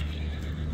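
A foal, one of eight young horses kept in Bishkek, gives a brief, low neigh, close and fairly loud, lasting under a second.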